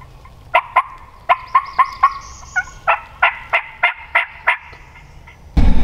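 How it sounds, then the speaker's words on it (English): A wild turkey gobbles and yelps in a loud, rapid series of about a dozen sharp calls close by in the woods, ending with a burst of rustling noise. "Damn turkey on this place."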